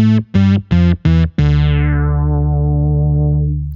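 Guitar run through a Source Audio C4 Synth pedal set to a notch low-pass filter: four short choppy synth-like stabs, then one sustained note that rings out and slowly fades, loud and close.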